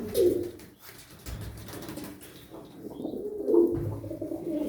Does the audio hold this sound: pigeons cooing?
yes